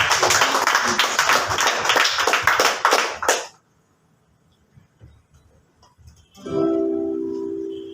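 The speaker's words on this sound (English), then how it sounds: "can we give God a clap offering as we say that?" A church congregation at a Sunday service gives a clap offering to God, with loud, crowded clapping for roughly three seconds that stops abruptly, followed by near silence and then a sustained musical tone.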